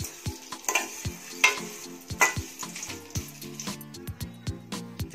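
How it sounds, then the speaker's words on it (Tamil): Vermicelli roasts in ghee in a pan: a bright, crackling sizzle sounds alongside repeated sharp clicks and taps of a spatula stirring against the metal. It is close and clear, with faint tonal background music toward the end. "இதிலே நம்ம சேமியா போட்டு வறுத்துக்கலாம்"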